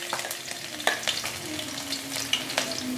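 Chopped garlic frying in refined oil in a pan for restaurant-style veg fried rice, a loud continuous sizzle with frequent scraping stirs and sharp spatula clicks against the pan, close up and without speech.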